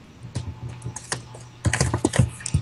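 Rapid clattering keystrokes on a computer keyboard, close and irregular, with bursts of quicker typing toward the end and no talk over them.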